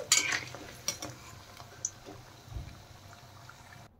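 Fried capsicum pakoras are lifted out of a pan of hot oil. A few sharp utensil clinks ring out over a faint, quiet sizzle in a calm kitchen.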